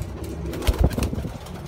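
Pigeons offered for sale coo in short, low, throaty bursts at close range, with a little rustling around them and no talk.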